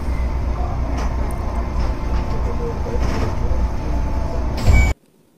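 A Keisei line train pulling into Shinagawa station on a curving approach, heard from aboard as a steady low rumble with rattling wheels and a brief hiss of brakes near the end before the sound cuts off abruptly.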